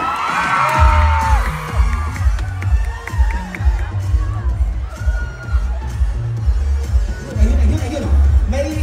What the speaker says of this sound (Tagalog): Parinig natin ang palakpakan naman sa mga hiyawan!